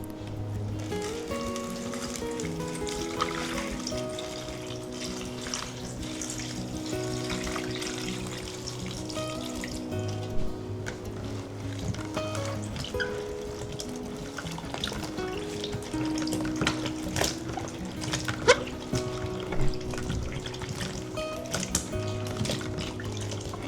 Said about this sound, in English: Add the slices into a small basin, sprinkle salt over them, and cover with cold water.